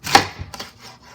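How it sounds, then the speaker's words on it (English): A kitchen knife cuts peeled yuca (cassava) into strips on a board, making a sharp close chop followed by a couple of softer taps. "you want to cut downwards, and you want to cut it like that into"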